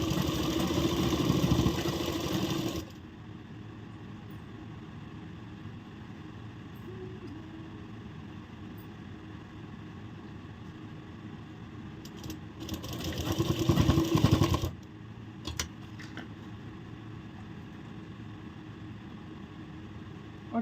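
A sewing machine runs a straight seam on a blouse in two short loud bursts of fast, even stitching, one at the start and one near the middle. Quiet room tone fills the long pauses between them.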